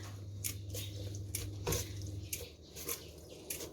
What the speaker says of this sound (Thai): แล้วก็คลุกเคล้า เพื่อเส้นของเราจะได้ไม่ติดกันเวลาเย็น